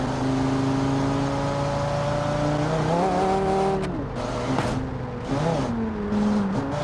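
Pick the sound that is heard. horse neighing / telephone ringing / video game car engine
video game car engine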